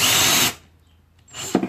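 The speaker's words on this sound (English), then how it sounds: "So then you take your drill. You drill in a little bit." Power drill boring a small pilot hole for an eye screw, a short loud whir that stops, then starts again briefly, close by.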